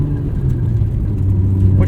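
A 1994 Mazda RX-7 being driven, its engine holding a steady low rumble from inside the cabin with a slight rise near the end as it shifts.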